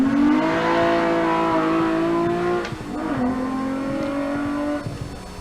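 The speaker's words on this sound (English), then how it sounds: "The car is such a gorgeous engine note." A six-cylinder Torana race car engine at a sprint event holds a steady, smooth high note, dips briefly as the driver shifts, then climbs back to a sustained drone.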